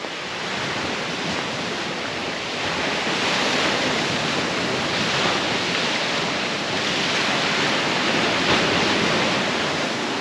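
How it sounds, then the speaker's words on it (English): Steady ocean surf breaking on an isolated sanctuary shore in Southern Leyte, a continuous loud wash of waves with some wind noise, no voices. "So even in the waves, I mean, that just blows me away."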